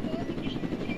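Helicopter in the Roblox game Jailbreak, a steady rotor drone with faint pulsing beats heard continuously throughout, moderately loud and sitting under game ambience.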